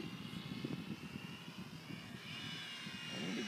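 A Mini Super Cub radio-controlled model airplane flying on a windy day, its small electric motor giving a thin steady whine that rises slightly as it comes back around, fairly faint and distant under wind rumble.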